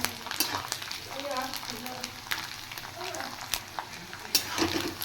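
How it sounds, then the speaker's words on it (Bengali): Grated coconut fries in a pan until reddened, giving a soft, steady sizzle broken by scraping stirs and light clatter, with a voice talking faintly in the background. "এই নারকেলগুলো লাল না হওয়া পর্যন্ত আমি ফ্রাই করতেই থাকবো।"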